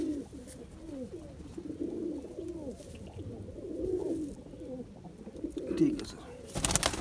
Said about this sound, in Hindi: व्यूअर्स देखिए बॉर्डरों वाले कबूतर,